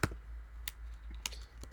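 Keys tapping on a computer keyboard, a few sparse clicks close by against a quiet room hum.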